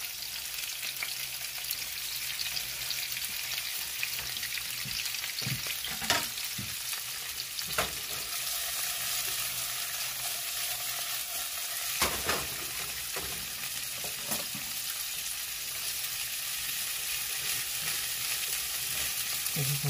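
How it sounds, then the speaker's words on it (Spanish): Chicken seasoned with salt and pepper frying in a pan for chicken fajita tacos, a steady hissing sizzle with occasional stirring knocks, close and continuous with no talking. "Que se sofría bien para empezar a hacer los tacos"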